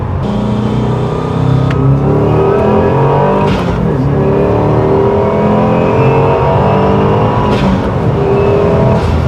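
A modified Subaru WRX engine roars hard under full throttle, revving up through the gears with a couple of brief shift breaks, loud and close.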